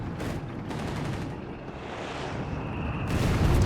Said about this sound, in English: Got Odung calling artillery here